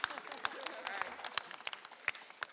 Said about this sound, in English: Okay, y'all can clap for that.